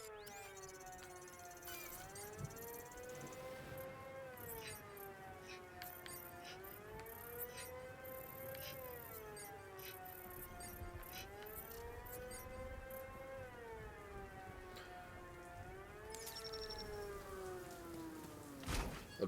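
A rising and falling civil-defense-style siren from Batman Arkham Knight wails steadily and loudly, cycling in long, slow swells over faint background crackle.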